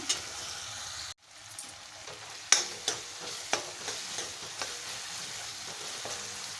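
Tomatoes sizzling and simmering in a pan while being stirred for a Malvani-style wild vegetable dish, a soft frying hiss broken by a short pause and then repeated scraping strokes of a spoon, no voices.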